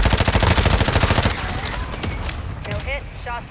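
Gunfire in a first-person shooter video game: a loud, rapid burst of automatic fire that then gives way to quieter, scattered shots and game noise.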